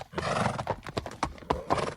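Close hooves clip-clop in an uneven rhythm, mixed with a horse's neighing whinny.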